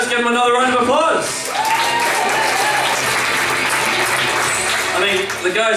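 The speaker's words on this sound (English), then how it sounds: "let's give him another round of applause" A comedy club audience applauds and cheers after a comic's set, a dense, sustained wash of clapping that starts after a brief voice and continues loudly for several seconds, with some talk mixed in.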